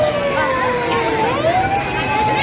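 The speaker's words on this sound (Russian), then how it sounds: "там какая-то скорая едет" An ambulance siren wails at a busy crossing in Tokyo, a rising and falling tone sweeping continuously at moderate distance over street rumble, with brief talk mixed in.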